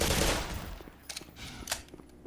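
Gunfire in the video game Black Mesa aimed at headcrabs: a loud opening burst followed by a few quicker, fainter sharp shots and clicks over a short stretch.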